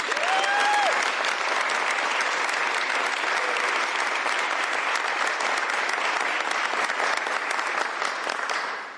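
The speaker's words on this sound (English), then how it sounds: "Give her a round of applause." Audience applause at a governor's bill signing, a dense, loud and sustained round of clapping from a crowded room that holds steady for several seconds before tapering off, with a brief voice over it at the start.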